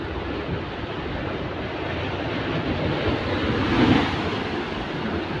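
Rough sea waves surging under strong wind along a stormy coast, a dense continuous roar with steady broadband rush and gusty buffeting, swelling slightly near the middle, no voices.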